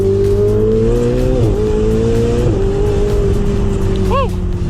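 A Ferrari 488 Spider is driven hard, its engine loud and close, holding a high drone with quick shifts and a brief burst of revving near the end.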